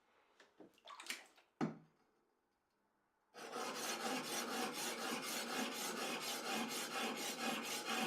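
A grinding wheel works a sword blade, giving a loud, continuous rasping grind with a steady, slightly pulsing rhythm after a few seconds of faint handling knocks and near silence.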